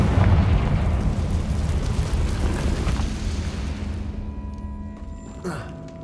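A Confringo blasting spell explodes in Hogwarts Legacy, a loud, sustained rumbling blast with crumbling debris that slowly fades, followed by a faint clatter near the end.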